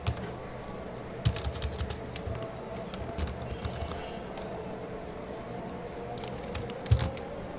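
Names being typed on a computer keyboard while working in PowerPoint: irregular, close clicking keystrokes in quick runs, with a few louder, heavier key presses standing out.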